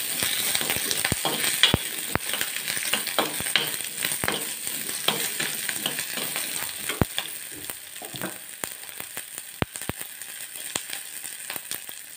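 Onion, garlic and green chili frying in a pan for a tamarind drumstick curry, a steady close sizzle broken by frequent sharp clicks and taps of a spoon stirring against the pan, with no voices.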